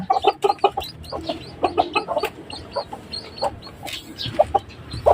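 Chinese silkie hens and newly hatched chicks clucking and peeping in quick, close, repeated calls, a busy steady chatter of fowl sounds.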